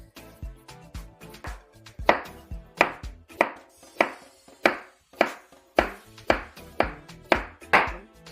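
A knife chops through sweet potato on a cutting board in a fast, regular rhythm of sharp, close thuds, growing louder partway through.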